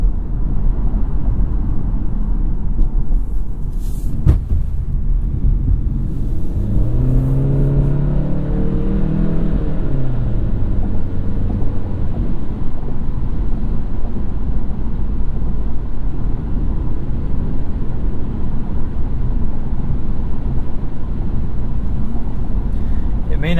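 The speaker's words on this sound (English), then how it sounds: "It may not sound great or seem like it would be engaging, but I do really like this CVT." A 2016 Honda Civic Touring with a CVT cruising, its steady low engine drone and road rumble filling the cabin throughout, with a rising whir around the middle and a person talking over it.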